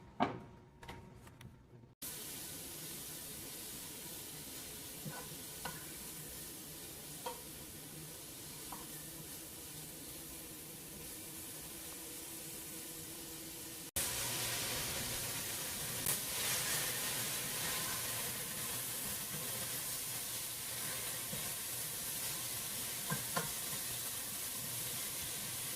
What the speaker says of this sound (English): We'll give this a few minutes to saute.